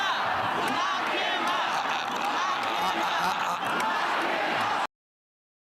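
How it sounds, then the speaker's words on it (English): A large protest crowd outside the US Treasury roars and shouts continuously and loudly, a dense wall of voices that cuts off abruptly near the end. "you have a furious crowd outside the Treasury chanting to lock up Elon Musk"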